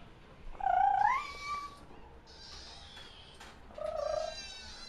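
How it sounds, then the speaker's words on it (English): Rescue kittens in a home setting meowing twice, a rising drawn-out cry and then a shorter one, close and clear over a soft steady purring background with no talking. "in here we have, well, the rescue kitties"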